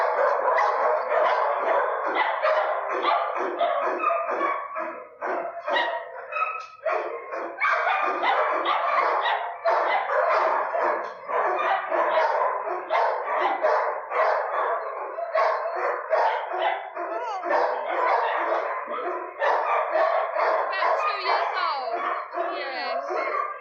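Many dogs bark continuously in a kennel block at Battersea Dogs Home, a dense, loud, overlapping chorus of yaps and barks that echoes for the whole stretch with hardly a break.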